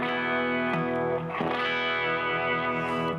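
Electric guitar run through a tranny effect pedal, a thick, slightly driven sustained chord with a couple of picked re-attacks ringing on evenly and up close, no voice.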